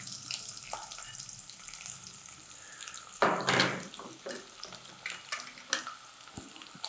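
Onions going into hot oil with cloves and cardamom for a brinjal curry, a sudden loud sizzle and clatter that bursts up midway, then settles into crackling frying with stirring clinks.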